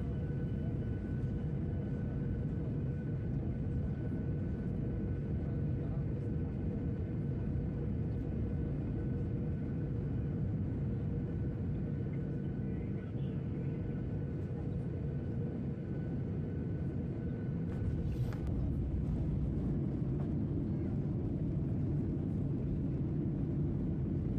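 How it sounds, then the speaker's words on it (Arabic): Inside the cabin of an Iraqi Airways Boeing 737 descending to land, a steady low engine rumble and airflow roar hold constant, with a faint tonal hum running through and no voices. "وبدأت الطيارة بالهبوط"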